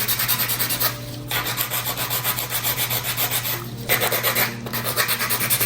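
A nail file rubs back and forth across a fingernail in quick, even rasping strokes, close and steady, with two brief pauses.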